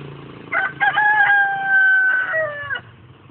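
A single rooster crows nearby, a loud drawn-out cock-a-doodle-doo rising then trailing off, over quiet background.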